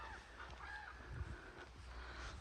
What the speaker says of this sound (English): Except this bird, I don't know what that is.